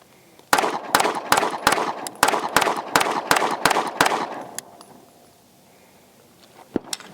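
A Sig Sauer P365 handgun fires about eleven sharp, evenly spaced pistol shots in quick succession, close and loud, then a short pause and one final shot.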